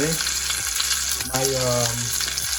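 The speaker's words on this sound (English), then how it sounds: "So now I'm gonna flip it again to the other side just to get it to crust as well." Steak sizzles hard in a pan with melted butter, a dense, steady frying crackle that runs loud and close the whole time with no talking over it.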